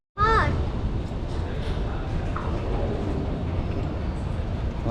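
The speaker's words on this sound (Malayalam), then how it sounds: "A ആണ് ഈ ട്രെയിൻ" A New York subway A train rumbles steadily on its way to Manhattan, a dense continuous roar with a brief high squeal at the start and faint voices underneath.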